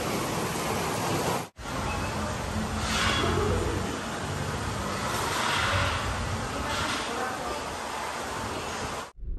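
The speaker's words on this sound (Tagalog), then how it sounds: "Lakas ng ulan, no?" Heavy rain pours down at a rooftop construction site by a hospital, a dense, continuous broadband hiss with gusting swells, briefly cutting out near the start and end.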